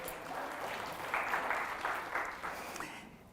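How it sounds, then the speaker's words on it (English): Audience applause at an anniversary event for Brown v. Board of Education, a short, moderately faint burst of clapping that swells in the middle and fades at the end. "So we should give Hutch a round of applause"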